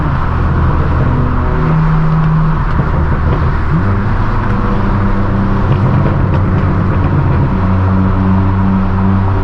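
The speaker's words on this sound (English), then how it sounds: "That's a Mini Cooper making that." A Mini Cooper's exhaust drones loudly and continuously close by on a late-night Los Angeles street, its pitch climbing and falling as the engine is revved.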